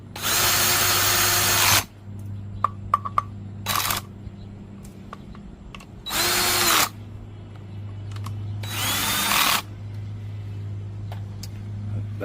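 A power drill whirs in four short bursts, each a second or two long, driving screws into brass well lights, with quiet clicks and handling noises between the runs over a low steady hum.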